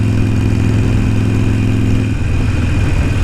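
A Harley-Davidson Sportster Roadster 1200 motorcycle engine idles loud and close with a deep, even rumble, its tone shifting slightly partway through.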